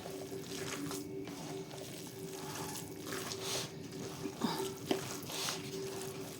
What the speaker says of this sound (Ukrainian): Ось сюди додаємо, вимішуємо файно.